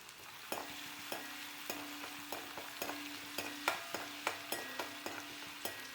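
Chopped ginger and garlic fry in a pan for a cashew paneer curry, making a soft, steady sizzle broken by regular, close scrapes and taps of a spoon stirring roughly twice a second.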